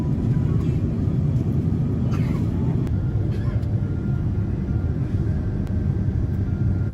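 Steady broadband roar of a Singapore Airlines Boeing 787-10 economy cabin on final approach into Changi Airport, a constant engine and airflow drone with a few faint clicks and thumps.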